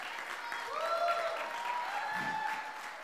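Audience applause for an artist on a talk show, a soft distant wash of clapping under a faint sustained musical tone, fairly quiet throughout.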